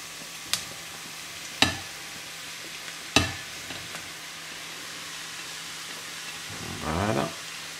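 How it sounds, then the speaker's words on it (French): Chopped mushrooms added to a pan of shallot and onion sweating over very low heat, with a faint steady sizzle broken by a few sharp utensil knocks and a brief rustling stir at the end. "Et après on va intégrer le hachis de champignons."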